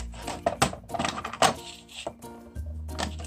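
Scissors cutting through a sheet of acetate plastic, a few crisp, close snips and crackles of the stiff sheet, with some handling noise and no talking.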